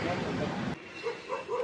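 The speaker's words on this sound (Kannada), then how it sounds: "ಬಂದ್ವಿ ಅಂತ ಹೊಡೈತೈತೆ ನಾಯಿ" A dog barks at visitors arriving at a house, giving a short burst of yapping barks at moderate distance over outdoor background and people's voices.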